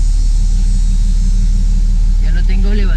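A 2017 Chevrolet Camaro RS idling just after a jump start on a low battery, a loud steady low engine rumble with a voice talking over it near the end.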